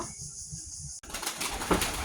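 Pigeons at a loft, with a rustle of flapping wings and soft bird sounds over a busy, noisy background.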